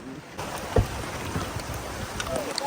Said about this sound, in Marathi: लयच पाऊस आला रे